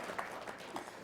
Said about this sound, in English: Let's give a round of applause for Mr. Luis Moreno.